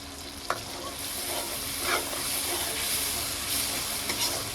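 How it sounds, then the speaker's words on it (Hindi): Taro (arbi) pieces half fried with masala in a pan, a steady broadband sizzle and hiss with occasional stirring clicks, close and continuous. "अरबी हाफ फ्राई हो चुकी"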